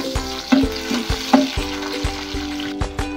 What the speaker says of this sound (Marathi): आता टमाटर टाकून घेऊया।